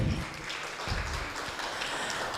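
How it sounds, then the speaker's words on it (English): An audience in a lecture or research event setting claps steadily, a dense, moderately loud wash of applause that holds at an even level throughout, with no voices over it. "Can we please give her a round of applause again?"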